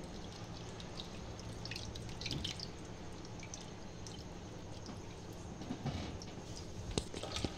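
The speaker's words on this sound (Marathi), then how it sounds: "आपण आता हे चाळणीमध्ये पाणी ओततोय" Water trickles and drips steadily through a fine strainer while straining wheat for kurdai, a soft continuous patter with occasional sharper drops.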